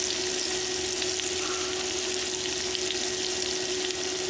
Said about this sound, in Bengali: আমার পেঁয়াজগুলো কিছুটা লাল হয়ে আসছে।